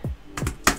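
A command typed on a computer keyboard, three quick close key clicks in under a second, crisp and near with no talk.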